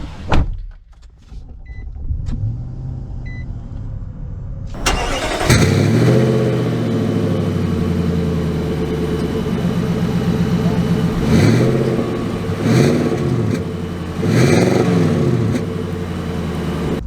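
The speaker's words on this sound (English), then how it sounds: "Let's take it out for a short little drive." A 2022 Nissan Titan PRO-4X truck starting up and pulling away, the engine catching after a quiet cabin moment, then a steady low rumble with several rising revs as it accelerates through gears.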